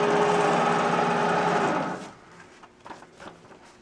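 An MBM 408A automatic high-speed desktop paper folder runs a gatefold test, a dense, steady mechanical whir that stops abruptly about halfway, followed by a few faint clicks and rustles.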